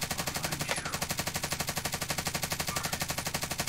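Sustained automatic fire from an MP5 submachine gun in Call of Duty Warzone, a steady rapid rhythm of close, loud shots running unbroken for the whole stretch with no talk.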